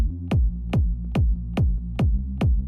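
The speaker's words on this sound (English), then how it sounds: "So now the kick and the bass sound like this together" A speed garage beat plays a four-on-the-floor kick drum with a bass line: six evenly spaced, punchy low thumps over a sustained deep bass.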